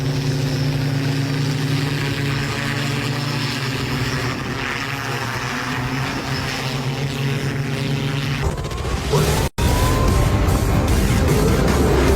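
A Dubai police flying hoverbike hums with a steady, loud, multi-rotor drone whine that continues without a break, then shifts to a rougher, gustier roar near the end as it moves closer.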